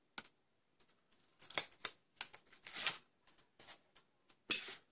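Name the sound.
peeling backing off adhesive on paper craft box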